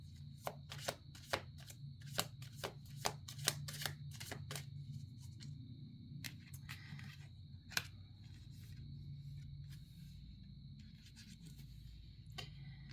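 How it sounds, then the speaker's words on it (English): Cards being shuffled several times, with crisp riffling bursts and soft rubbing over a quiet background hum. "We'll give it a few shuffles and we'll see."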